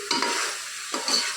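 Onion, ginger, garlic and chili tossed into a hot pan for a whole-eggplant curry gravy, two bursts of loud stirring and scraping over a steady close sizzle.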